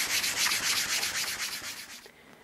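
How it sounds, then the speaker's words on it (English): Steady back-and-forth rasping of 320 grit sandpaper on a live edge wood table, close up, with a quick even rhythm of strokes that eases off near the end. "320 grit sandpaper here"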